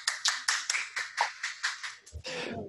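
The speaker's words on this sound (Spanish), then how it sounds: "Un aplauso para usted." A small group claps in a steady, fairly close rhythm of about a dozen distinct hand claps after a medical talk on head trauma, ending with a brief murmur of voices.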